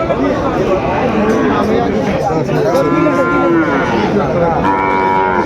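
Sahiwal cattle moo repeatedly at a busy livestock market, with long lowing calls rising above a constant babble of crowd chatter and nearby voices.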